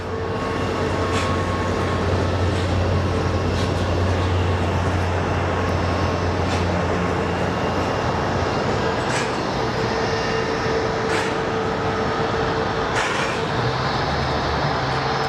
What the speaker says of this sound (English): So it's a JetBlue A320, 16 years old